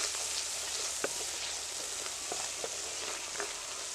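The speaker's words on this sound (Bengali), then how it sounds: "সবগুলো মশলা একসাথে আমার ভালো করে কষাতে হবে" Spices with turmeric and salt frying in hot oil for a Bengali fish curry, a steady close sizzle with occasional soft stirring taps.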